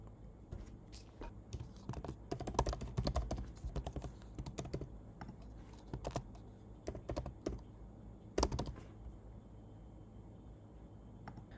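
Close, quiet tapping on a computer keyboard as an email address and password are entered, irregular bursts of keystrokes with short pauses over low background hum, no speech.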